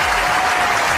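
Clapping applause in a video game after a battle royale fight, a dense steady patter of many hands heard alone and fairly loud for about a second.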